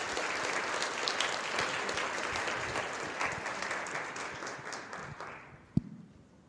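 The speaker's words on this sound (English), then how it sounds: "one more round of applause for On Us." An audience at an innovation challenge applauds a student team, dense sustained clapping that fills the room for about five seconds, then fades out with a single sharp clap near the end.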